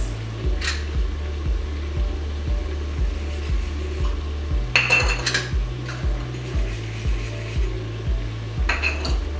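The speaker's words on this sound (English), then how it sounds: "What I'm going to do now is to oil my tins." Metal baking tins being handled and oiled in a kitchen while preparing moin moin, giving repeated light clinks and scrapes of metal over a steady low hum, with a few louder clatters.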